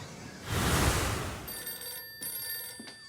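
A telephone rings indoors: a bright electronic bell tone starts partway through, following a burst of rustling noise, and sounds moderately close and clear, with no voices.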